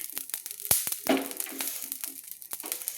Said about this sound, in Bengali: তাই আমি হালকা করে ভেজে নিচ্ছি গ্যাসটা লো ফ্লেমে রেখে।